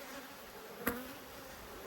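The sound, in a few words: honey bees buzzing during hive inspection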